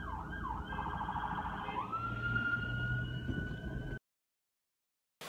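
A police siren wails nearby on a London street, rising and falling in quick warbles before settling into a steady high tone, then cuts off abruptly.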